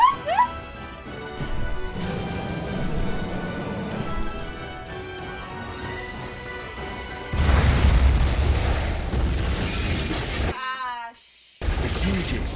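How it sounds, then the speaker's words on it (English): A huge, booming explosion erupts in the video game SCP Secret Files. It hits loud and broadband after a stretch of music and a voice, cuts briefly to near silence, then returns as another blast. "The huge explosion from the impact drowned out everything else in the attic."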